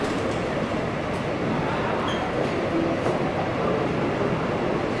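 A Hong Kong MTR metro train running underground, a steady loud rumble and rattle of wheels on track with faint clicks, continuous and close, with no clear talk over it.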